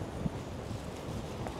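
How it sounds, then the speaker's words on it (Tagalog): Strong gusting wind buffets a microphone outdoors in Seoul, a steady low roaring rumble with occasional heavier thumps, close and loud throughout. "As in, super lakas ng hangin."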